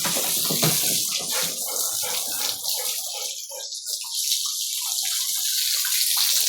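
Water spraying onto a dog during an outdoor bath on a hot sunny day, a loud continuous hissing gush that thins and breaks up midway before surging again, with no clear talk.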